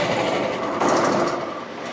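A sawmill's engine runs steadily with back pressure from a valve that needs adjusting while cutting cherry lumber, giving a continuous close mechanical drone with a slight surge partway through.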